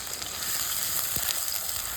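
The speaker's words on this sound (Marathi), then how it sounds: "भाजीसाठी तेल टाकून घेऊ, मोहरी, जिरं, कढीपत्ता, बारीक चॉप केलेला कांदा" Mustard seeds, cumin, curry leaves and finely chopped onion frying in oil for a dry broad bean pod stir-fry, giving a steady, close hiss of sizzling with faint crackle throughout, no voices.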